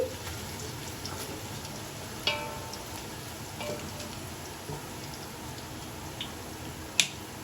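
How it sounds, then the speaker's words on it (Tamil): Onions sauté in oil for mutton biryani, making a soft, steady crackling sizzle with a few sharp pops scattered throughout, fairly faint and without voices. "இன்னும் கொஞ்சம் நல்லா கோல்டன் ப்ரௌன் கலரில் நல்லா வதங்கட்டும்"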